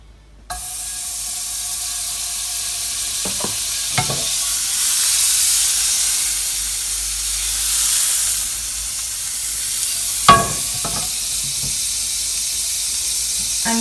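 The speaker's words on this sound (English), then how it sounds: "The pan is still hot, so your butter will melt without the heat being on." Butter melting and sizzling in a still-hot pan with the heat switched off, ahead of making thick carrot cake pancakes; a steady soft hiss runs throughout, with a few brief clinks and stirring knocks.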